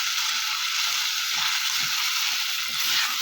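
Salted onions frying in oil for Mughalai biryani, a steady close hiss of sizzling with faint stirring clicks underneath, alone and continuous.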